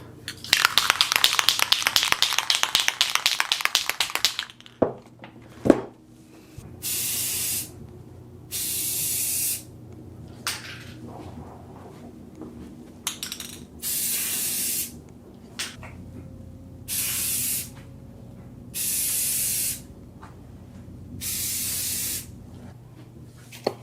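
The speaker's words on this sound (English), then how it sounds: "let me go ahead and spray the fork and handlebars" Spray paint hisses from a can onto a BMX bicycle's fork and handlebars during a Diamondback Viper JR restoration. A long continuous burst comes first, then a series of short, even bursts separated by pauses.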